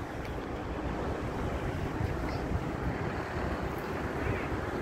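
Steady surf rumbles and washes continuously, mixed with wind buffeting the microphone, no voices.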